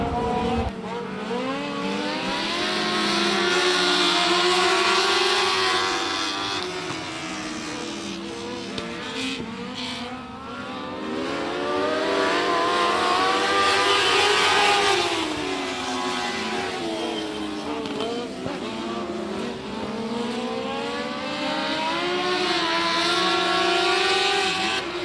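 Dwarf Mod Lights race cars in a heat race at Big O Speedway, engines roaring and rising and falling continuously as the pack sweeps past, loud and sustained with passing swells.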